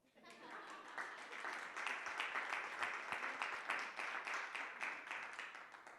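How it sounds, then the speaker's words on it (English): A crowd at a town breakfast celebration in Oakes Ames Memorial Hall, marking Easton's 300th anniversary, breaks into steady applause that swells quickly and holds at a moderate, slightly distant level. "You may now applaud."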